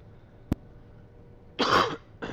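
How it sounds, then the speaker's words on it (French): A person coughs, one sharp short burst followed by a louder, longer rough cough and another brief one, close up against a quiet background. "Excusez-moi, j'ai toujours ma toux."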